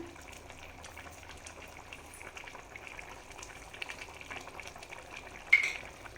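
A pot of fish curry simmering, a soft continuous bubbling and gentle crackle held low and even throughout, with one small clink near the end and no talking.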